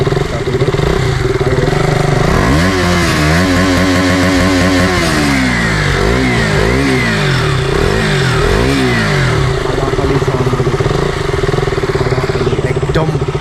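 A KTM Duke 200 BS4 motorcycle engine runs close by, revving in several sharp throttle bursts with rising and falling exhaust pitch before settling to a steady idle, with no talk over it.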